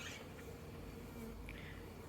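Bees hum around a backyard beehive, a faint, steady buzzing drone with a few closer passes rising briefly above the low background.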